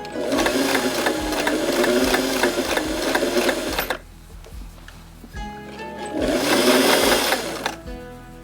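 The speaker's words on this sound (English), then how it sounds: "And I'm going to start sewing." A sewing machine stitches lace during a wedding dress alteration, running in two loud sustained bursts with a pause of quieter handling between them.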